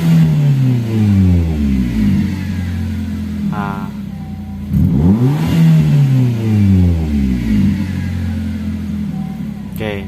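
Nissan X-Trail engine with a one-way alternator revving repeatedly, rising and falling engine pitch in several close, loud sweeps over a steady idle, with a brief voice in between.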